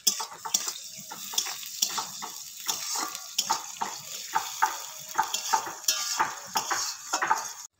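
Finely chopped garlic hits hot oil and crackles with rapid, irregular pops and sputters, close and moderately loud, continuing steadily to the end.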